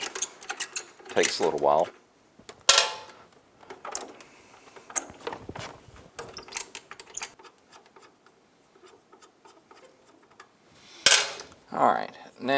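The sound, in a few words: backing off brake adjustment screws on a Honda Rancher 350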